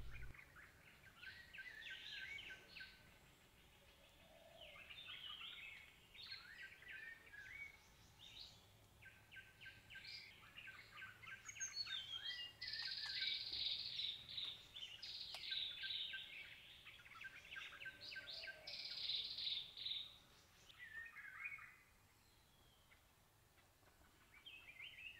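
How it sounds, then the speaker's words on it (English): Male Siberian blue robin calling at a forest bird hide in Kaeng Krachan, Thailand: repeated high chirping and twittering phrases in bursts over about 25 seconds, fairly close and clear against a quiet background. "Earlier we saw the female Siberian blue robin, here is the male."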